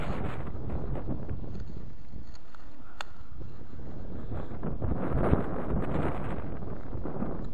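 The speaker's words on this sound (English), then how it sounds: "I'm trying to block the wind" Wind gusting steadily across an open field during a medieval-era metal detecting outing in the UK, a constant loud broadband rush buffeting the microphone for the whole stretch.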